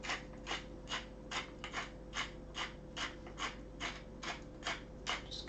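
Pink Himalayan salt crushed in a hand grinder for muffins: a steady series of crisp, grating crunches with an even twisting rhythm, close and moderately quiet, no talk.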